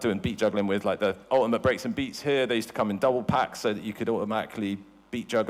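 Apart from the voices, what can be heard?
None of the usual background noises is heard.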